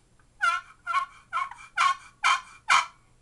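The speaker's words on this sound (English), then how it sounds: "Box call is good. It is a nice call to use," A wooden turkey box call played for hunting gives six evenly spaced, sharp yelping notes at close range, each a short raspy burst with clear quiet gaps between them.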